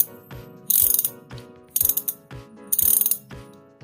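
A SunRace 8-speed 13-34T thread-type bicycle freewheel ratchet clicking in quick bursts, three fast runs of rapid ticks with slower single clicks between, close and fairly loud.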